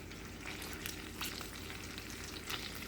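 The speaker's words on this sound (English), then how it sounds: "I'm just flipping these skins to expose more of the skin to the pan." Chicken skins fry in a pan as they render into crisp skins, giving a continuous close sizzle and crackle with small pops and soft scraping as they are moved around.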